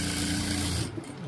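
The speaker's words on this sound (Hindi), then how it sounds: "और अब हम इसको आधे इंच के हिसाब से मार्जिन से सिलाई मारेंगे" Sewing machine stitching a seam on a coat-style dress, a fast steady mechanical whir that cuts off just before the end.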